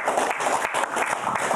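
An audience at a Border Guards Day evening concert in Gomel claps briefly, a dense, steady patter of many hands at moderate level filling the short moment.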